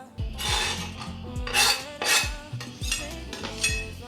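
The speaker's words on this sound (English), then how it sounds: "I'm gonna throw this in the pan with just a little bit of olive oil" Minced meat browning in a pan with a little olive oil, with a steady hiss and repeated metallic scraping and clattering as it is stirred and pushed around, close and fairly loud, no talking.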